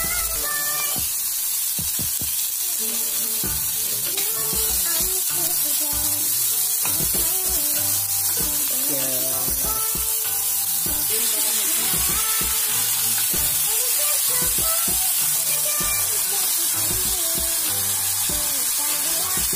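Carrots sautéing with garlic in a pan for macaroni fry, a loud, unbroken sizzling hiss that runs throughout, with frequent clanks and scrapes of stirring and no voices.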